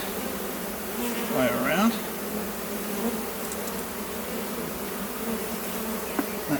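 Honey bees swarm around an open hive during a full inspection while a Flow Hive honey super is fitted, a dense continuous buzz with a louder pass near the start and someone talking over it.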